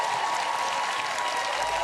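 A studio audience at a televised dance competition gives a round of applause, steady, dense clapping at full volume throughout, with no distinct voices.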